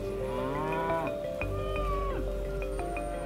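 Cattle moo in a paddock, with several overlapping low calls, some drawn out and rising, heard fairly close over a steady outdoor background.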